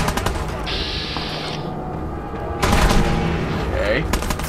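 Gunfire in Fallout 4, heard as bursts of rapid shots with a louder, denser stretch partway through, set against steady game ambience.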